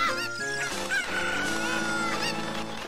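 Chicken sounds from the Zelda Ocarina of Time Master Quest game, heard as short clucks and crow-like calls over steady, busy game music, with no talk.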